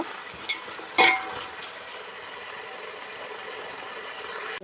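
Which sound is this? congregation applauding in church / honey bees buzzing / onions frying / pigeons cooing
onions frying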